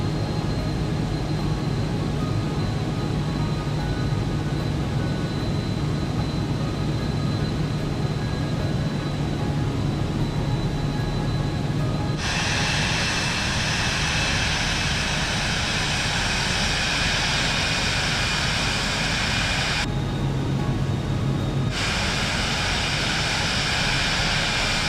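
Airliner engines drone steadily on a landing approach in Microsoft Flight Simulator 2024, a broad continuous roar that swells louder about halfway through, briefly drops back, then surges again.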